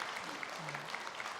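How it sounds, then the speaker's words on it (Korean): Congregation in a church applauding after a baptism during a Sunday worship service, a short burst of dense, steady clapping from many hands filling the room. "우리 큰 박수로 축하해 주시기 바랍니다"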